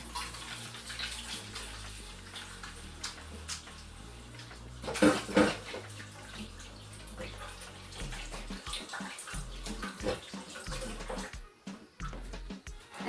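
Hands being washed under a running kitchen tap, a steady splashing water stream with sloshing bursts, close by, and a voice talking over it at times.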